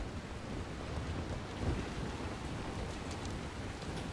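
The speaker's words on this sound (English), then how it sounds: "And it's raining." Steady rain in the video game Dying Light hisses continuously at a low level, with a faint low rumble partway through; no voices.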